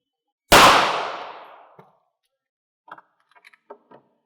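A single loud, close gunshot fired at a bone target, its sharp crack decaying over about a second, followed by a few faint distant clicks and taps.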